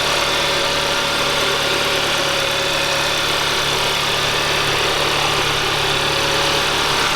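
A car engine idles steadily up close, a constant loud rumble and hum with a slight rattling vibration, unbroken throughout and no voices.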